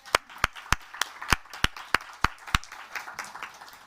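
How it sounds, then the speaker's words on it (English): A small audience at a college mental health legislation event gives a round of applause, about ten distinct, evenly spaced claps standing out over a softer spread of clapping that fades toward the end. "we should really give them a round of applause"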